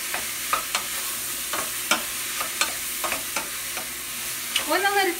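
Portobello mushrooms fry in a pan with a steady sizzle, while a utensil scrapes and stirs in sharp, repeated strokes close by.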